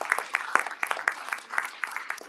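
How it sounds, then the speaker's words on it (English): A small audience claps after a film screening, a brief, thin patter of scattered hand claps with uneven rhythm, fairly quiet and close, with no talk over it. "Can we clap it up again for that?"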